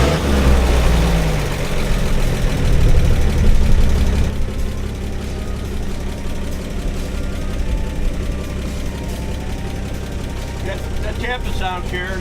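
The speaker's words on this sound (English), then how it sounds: "That tapping sound here is typical for these until they build up their oil pressure." An old car with its original drivetrain idles with a steady engine rumble, loudest at first and then settling, while someone talks over it; any lifter tapping is buried in the engine noise.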